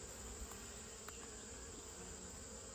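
Agitated honeybees buzz around a beekeeper during a hot-morning hive inspection, a dense, steady droning hum of many insects close by with no talking.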